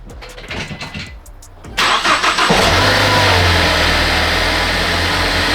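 A car engine cranks briefly after some quiet clicks and handling noises, then catches and settles into a loud, steady idle that runs on close by without any talking.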